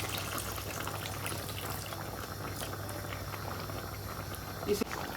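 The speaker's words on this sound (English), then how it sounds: "It's actually beginning to act as if it wants to start boiling underneath." A pot of thick Nigerian oha soup bubbles and simmers steadily up close on the verge of boiling, with a low continuous hum underneath and a brief clink near the end.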